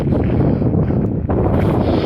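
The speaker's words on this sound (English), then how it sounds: "It is really windy at this spot." Loud, continuous rumbling buffet of wind hitting the microphone, low and blustery throughout with no other sounds breaking through.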